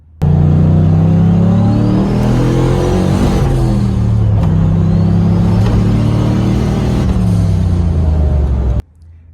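A turbocharged car with new gearing revs hard, its engine rising through the rpm range while the turbo spools up with a climbing whine over a deep drone, loud and close, cutting off abruptly at the end.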